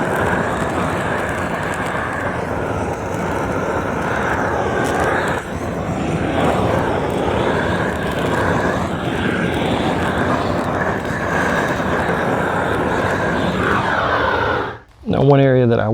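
A propane weed torch roars loudly and continuously outdoors in a garden, a broad rushing hiss that dips briefly near the end.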